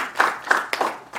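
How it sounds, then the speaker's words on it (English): Scattered hand clapping at a book launch, a few distinct rhythmic claps close by, moderately loud, with no talking. "So let's give him a round of applause."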